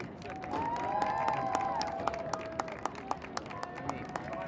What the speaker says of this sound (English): Please join us in cheering for the senior Panthers from Glen Rock High School, number 10, Caitlin Orsini.